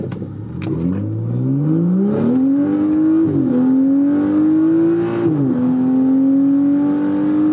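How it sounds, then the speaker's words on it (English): A BMW F-series car launches hard from a standstill on wet pavement, its engine note climbing loudly and steadily through the revs, dipping briefly at an upshift and pulling up again, close and continuous with no talking. "I'm gonna come back down to a stop. All right, here we go. Take 2, hopefully I don't spin the tires."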